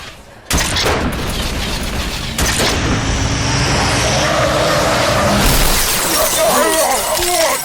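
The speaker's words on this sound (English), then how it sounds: "A car just came out of nowhere! Smashed all the brutes!" A car in the video game Halo 3: ODST smashes into a group of brute enemies, with a loud sudden crash and shattering impact followed by sustained grinding, mechanical noise and scattered debris clatter.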